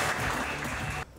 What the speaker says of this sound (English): Give a round of applause for Emily Bender of Beetle Moment Marketing.